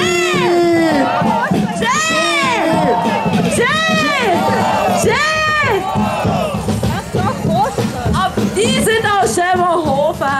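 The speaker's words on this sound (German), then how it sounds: "Auf jeden Fall schreien die Schee!" A carnival crowd at the Großer Narrensprung parade in Mittelbiberach yells a long-drawn, rising-and-falling chant over and over, many voices overlapping loudly and close without a break.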